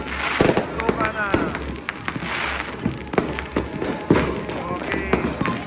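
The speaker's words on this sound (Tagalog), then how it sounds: "Ayan na ang putukan." New Year fireworks and firecrackers go off all around, a dense string of sharp cracks and pops, some near and loud, over a constant crackling rumble, with voices calling out underneath.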